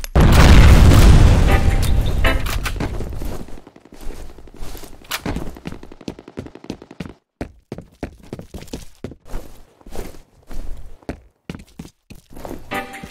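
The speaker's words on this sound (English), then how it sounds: "Grenade out!" A grenade explodes in the video game F.E.A.R. Combat with a loud, close, booming blast that rumbles for a few seconds and decays, followed by scattered thumps, footsteps and gunfire.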